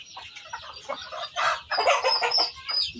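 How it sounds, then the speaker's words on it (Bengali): Hens and roosters cluck and squawk at dusk as they return to their coop, a busy farmyard chorus of overlapping calls with a few louder bursts, fairly close. "মোরগ মুরগি সবাই ঘরে আসতেছে।"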